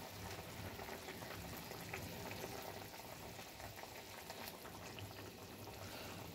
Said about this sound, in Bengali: আর গ্রেভিটা ফুটতে শুরু করেছে।